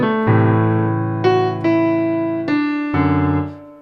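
Piano chords played in the left hand only: five sustained chords struck one after another, each ringing and slowly decaying before the next, close and clear with no other sound.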